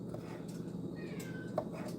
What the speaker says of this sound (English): I'm not sure if you hear my cat in the background.